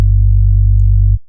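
A loud, steady low synthesizer tone from the ULTRAWAVE synth, played after a filter knob darkens it, holds evenly for about a second with a slightly buzzy edge, then cuts off abruptly, leaving a short fading tail.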